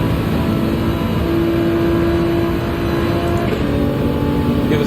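Race car engine from Gran Turismo 7 droning steadily and loud through a lap, a sustained tone holding at one pitch with a shift partway through, no talk over it.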